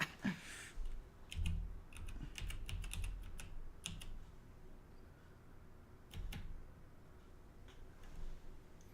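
Keys clatter faintly on a computer keyboard during an online game session. Irregular bursts of clicks come in quick clusters with quiet gaps between them.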